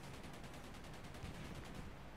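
Rapid aircraft autocannon fire from the War Thunder combat flight game rattles in quick repeated bursts, faint and distant-sounding under a dense noisy wash.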